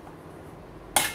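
A metal spoon mixing yogurt into lamb kebab in a bowl: near-silence, then a few brief bright clinks and scrapes of metal against the dish toward the end.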